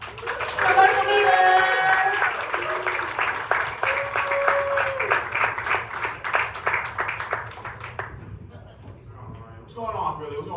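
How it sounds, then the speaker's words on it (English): An audience applauds at a comedy show in a bar, thick sustained clapping with cheers and whoops layered on top, then thinning out after about eight seconds as voices take over. "So everyone start clapping again"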